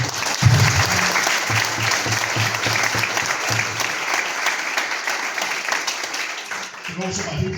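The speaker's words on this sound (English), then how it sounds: "can we also please have a round of applause for Steph McCaskill for all our work at the Raymond Gormley Festival" A crowd at a youth football awards evening gives a sustained round of applause, many hands clapping steadily and loudly, with some voices and cheering mixed in near the start and a speaker resuming at the end.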